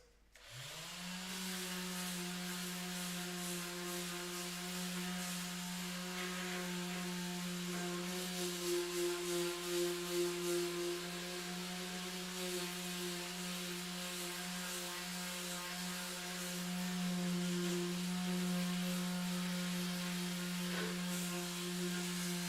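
A steady machine hum with a strong tonal drone, like a rotary sander or similar power tool running at constant speed on a 3D printed part, continuing without pause and fairly close.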